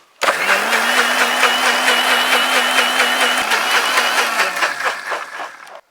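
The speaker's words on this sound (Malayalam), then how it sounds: "ഇനി നമുക്കിനി മിക്സിയിലിട്ട് നന്നായിട്ടൊന്ന് അടിച്ചെടുക്കാം." A kitchen mixer grinder blends lemon juice with ginger and water into a cool summer drink, its motor whirring loud and steady for several seconds before spinning down at the end.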